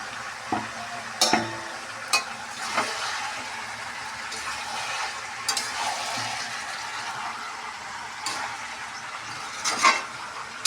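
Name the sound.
chicken stir-fried with spices in a pan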